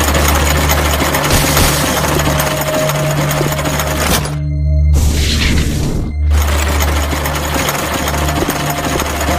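A generator in the horror game Monster Park runs with a loud, steady mechanical drone and throbbing hum. The drone cuts out briefly in the middle, then resumes just as strongly.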